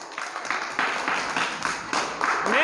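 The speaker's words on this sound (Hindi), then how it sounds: "तालियां जोरदार।" A crowd at a quiz contest breaks into applause for a team, a dense, continuous patter of many hands clapping at close range, swelling in waves, with a voice briefly rising at the end.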